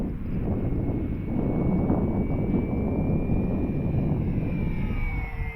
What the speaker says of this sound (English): Using about 3/4 throttle flying into that wind.